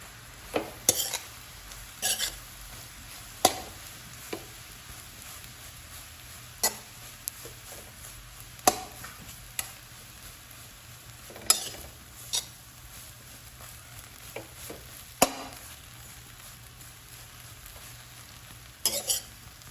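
Bread pieces roasting in a pan for bread chili make a soft, steady sizzle. A spoon stirs and scrapes against the pan in irregular bursts, close up, with no voices.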